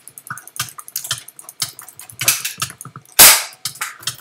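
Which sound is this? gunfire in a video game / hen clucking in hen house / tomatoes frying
gunfire in a video game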